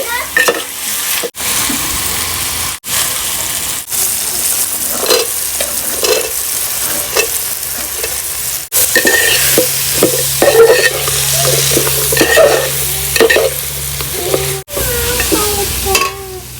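Vegetables with ginger, garlic and tomato for a vegetable biryani sizzle loudly in a pot on a wood-fired stove, with repeated scraping stirs from a ladle and a few sharp knocks against the rim, close up.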